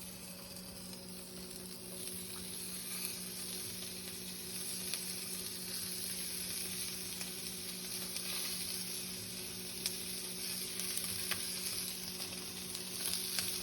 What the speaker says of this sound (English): Fried elk tongue.